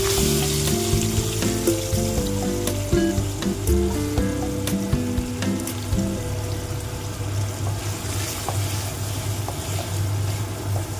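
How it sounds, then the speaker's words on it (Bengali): Paneer pieces frying in oil left from frying potatoes, a continuous crackling sizzle with sharp pops and clinks, alongside a tonal hum that sounds like running water from a tap. "ওই তেলেই আমি পনিরগুলো দিয়ে দিলাম।"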